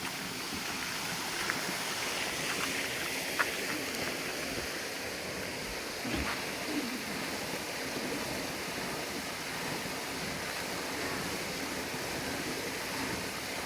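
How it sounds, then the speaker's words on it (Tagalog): A spring-fed waterfall at Little Baguio in San Vicente, Palawan, pours with a steady, close rushing roar of water that holds even and unbroken throughout, with no voices. "Ang falls na ito guys ay agos talaga, galing sa mga bukal."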